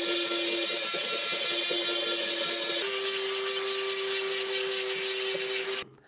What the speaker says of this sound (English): this is the aluminum oxide stone after grinding on the brass